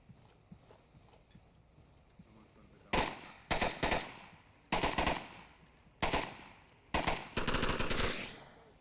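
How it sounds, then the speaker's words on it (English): Gunfire in the VR shooter Onward: after a quiet stretch, repeated sharp bursts of automatic fire crack out in quick succession, loud and close, each burst stuttering with rapid shots. "Potato Bot will join in that chorus of gunfire."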